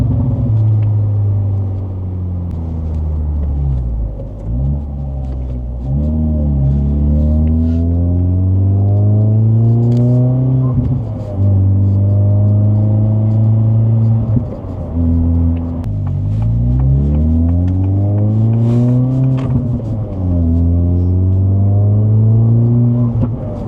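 A 2024 Acura Integra Type-S engine pulls hard through the gears, its loud revs climbing and dropping sharply at each quick upshift in a repeated rise-and-fall pattern, with no voices.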